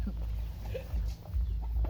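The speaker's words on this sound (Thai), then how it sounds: "ตอนนี้บ่าวดำเฮากำลังสิเข้าไปจับไก่เนาะโจเอ้ย" Chickens cluck in short bursts against a steady low rumble, with a few brief calls scattered across the clip.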